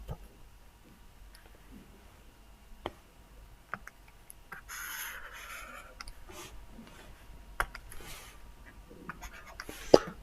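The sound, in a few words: writing out a maths formula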